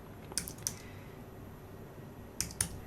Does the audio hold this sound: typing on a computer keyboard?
yes